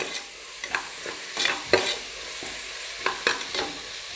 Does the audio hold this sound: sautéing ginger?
yes